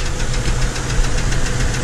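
A 2007 Chevrolet Trailblazer engine idles with a strange, rapid rhythmic knocking, steady and close throughout.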